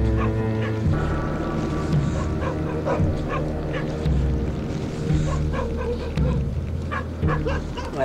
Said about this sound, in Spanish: Aquí al lado hay unos cachorros y los padres deben ser los padres, los estamos oyendo por ahí ladrando